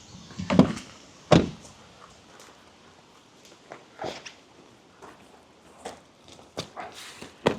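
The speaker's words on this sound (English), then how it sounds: "And then shut your door." A VW campervan door shutting, with two sharp thuds early on, followed by lighter knocks and handling sounds spread across the rest, nearby and with no talking.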